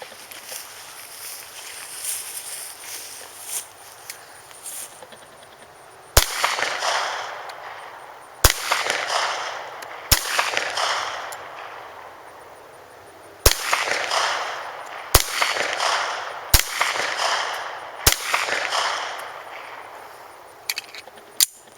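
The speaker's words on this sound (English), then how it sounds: "But I'm going to see how these group and shoot." A Rock Island .45 ACP pistol fires eight sharp, loud shots at irregular intervals outdoors, each followed by a brief decay, with quiet background noise between.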